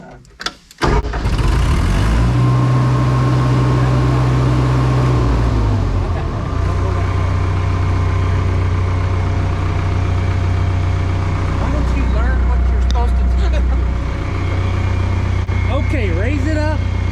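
A skid steer's engine idles steadily after a brief start-up, a loud, close, continuous low rumble that shifts pitch slightly partway through.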